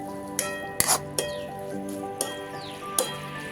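Dry masala frying in oil for a mushroom curry, stirred in a pan: a steady close sizzle broken by several sharp clicks and scrapes of a spoon against the pan.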